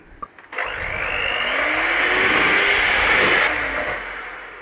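A blender whizzing milk and neutral vegetable oil: a click, then a loud close whirring motor that holds steady for about four seconds before starting to wind down, with no talking.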